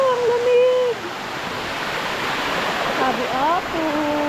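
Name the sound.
Nalalata Falls waterfall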